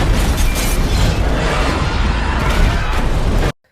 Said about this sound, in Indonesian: Kereta itu meledak.